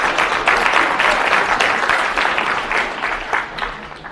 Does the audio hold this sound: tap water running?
no